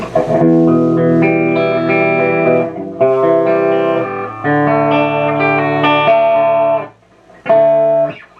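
Electric guitar played through an SLO clone tube amp, preamps turned down for a clean tone; sustained chords ring out loud and close, with a brief drop near the end, and no talking.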